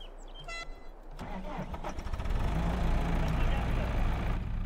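A JCB machine in Farming Simulator 22 cranks over and starts, then settles into a loud, deep, steady diesel rumble, with someone talking over it.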